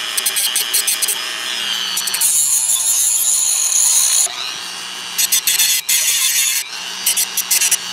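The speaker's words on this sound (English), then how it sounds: "I'm just going to get the little grinder wheel on the Dremel and we'll give that a shot" A Dremel rotary tool with a small grinder wheel grinds on a part from a Holmes HeatSafe HS400 ceramic heater, loud and close, with a harsh high whine broken into bursts and short pauses.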